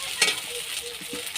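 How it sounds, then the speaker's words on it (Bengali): Ginger frying in hot oil in a home kitchen pan, a steady broadband sizzle with one sharp spatula scrape near the start and softer stirring knocks after it, close and moderately quiet, with no talk. "একটু আদা দিয়ে দিলাম। তারপর আদাটা একটু ভালো করে ভাজা হয়ে গেলে তারপর আমি আলু দিই।"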